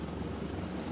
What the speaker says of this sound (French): C'est un hélicoptère Caracal.